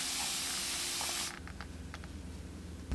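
A steady, close hiss of aerosol makeup setting spray for about a second, then it stops, leaving faint handling noises and low hum.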